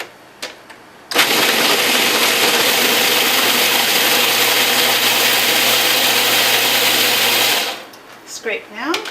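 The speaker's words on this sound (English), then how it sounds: "you just want to process it enough so the dates are all broken up and it starts getting sticky" A food processor grinds dates for a raw apple pie crust, a loud continuous motor roar running about six seconds with a sudden start and stop, a few light knocks and handling sounds before and after.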